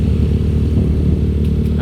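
A Honda Vario scooter fitted with an aftermarket ECU and a fixed CVT runs loud and close, its engine droning and revving in a steady low rumble with no pauses.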